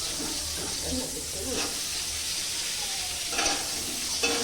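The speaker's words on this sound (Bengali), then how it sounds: "এই তো আলুগুলো ভাজা হোক" Salted, turmeric-coated potatoes sizzle steadily in oil in a pan, a close continuous hiss with a few louder stirring crackles, while a voice speaks faintly over it.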